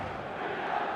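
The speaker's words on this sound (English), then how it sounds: "There's a real expectant buzz in the stadium" Stadium crowd in the eFootball video game, a dense steady roar of many voices, loud and unbroken throughout.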